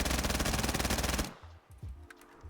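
A PP-Bizon submachine gun with a banana clip fires a loud, rapid, sustained burst in Call of Duty Zombies, cutting off abruptly after about a second into quieter clanks and game sounds.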